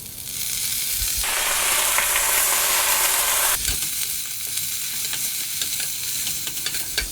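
Bok choy with garlic and ginger stir-fries in a wok, a loud steady sizzle that swells into a bright hissing burst for a couple of seconds before settling back to a crackling fry.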